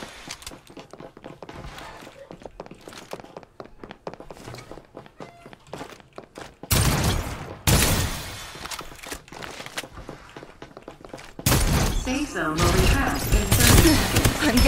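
Shooting in the battle royale game Farlight 84: soft footsteps for several seconds, then loud, dense bursts of sustained weapon fire that come in three long volleys, close and harsh, with short gaps between them.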